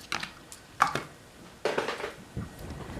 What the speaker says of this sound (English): so I'm going to cut my ribbon. Right about there.